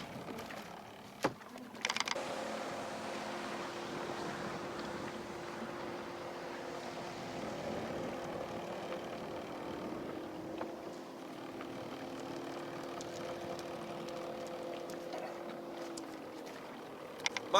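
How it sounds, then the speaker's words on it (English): A boat's electric trolling motor strains forward while the boat is snagged on fishing lines, giving a continuous low hum with a faint whine that holds steady for the whole span after a brief knock at the start, quiet and near. "My trolling motor's going crazy trying to go forward"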